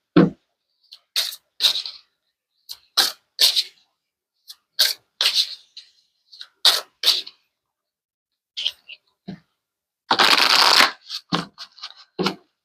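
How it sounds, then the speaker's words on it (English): Tarot cards are shuffled and pulled in crisp, close bursts of riffling and snapping, broken by short silences. A longer, dense shuffle comes near the end. "Okay, I'm going to pull some more cards."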